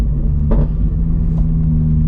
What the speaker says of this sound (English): That right there is called a rev match downshift